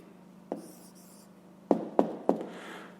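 A pen writes a maths answer by hand on paper, heard as a few sharp taps and short scratching strokes, close and quiet against a low steady hum.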